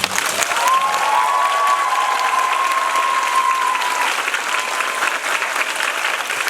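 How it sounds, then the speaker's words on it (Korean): Sustained applause from a concert audience at a summer concert encore, dense and steady throughout, with a faint whistle or cheer riding over the clapping. "저희 과장님과 대리님을 위해 박수 한번 주시면"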